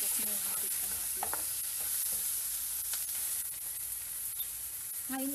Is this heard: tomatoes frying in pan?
yes